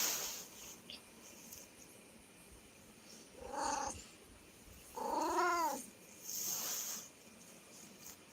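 A cat gives two drawn-out meows a second or so apart, moderately close, over a quiet, faintly hissy background.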